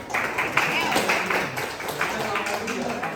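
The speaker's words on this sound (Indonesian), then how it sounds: "Beri tepuk tangan." Students in a classroom applaud a presenting group, a sustained patter of many hands clapping at a moderate, even level, with voices murmuring underneath.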